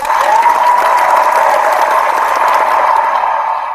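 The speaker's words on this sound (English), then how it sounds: "I'm going to give you a round of applause for this." A loud, steady round of applause from a crowd, sustained clapping that holds at an even level for about four seconds before easing slightly at the end.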